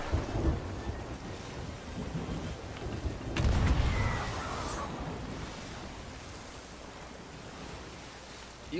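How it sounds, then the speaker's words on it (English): A stormy sea in the pirate game Sea of Thieves: rushing wind and crashing waves, with a heavy rumbling burst like thunder around the middle, then a sustained roar slowly easing off. "The storm is too loud."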